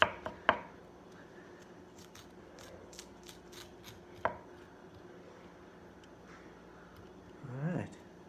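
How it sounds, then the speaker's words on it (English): A spoon or knife scrapes seeds from a halved jalapeno pepper for a jalapeno lime lager brew, with a few sharp taps early on and a rougher scraping burst near the end, quiet and close. "Careful this stuff doesn't squirt you in the eye. Jalapeno in the eye is no fun. Alright, let's use this here. Scrape out all those seeds."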